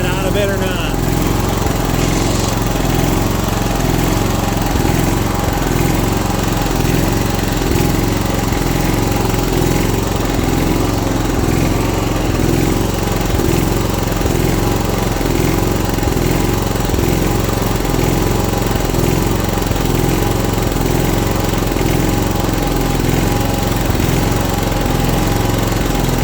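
A John Deere 240 lawn tractor engine runs loud and close, its steady drone rising and falling in a regular surging pulse throughout, with no pause or other sound standing out.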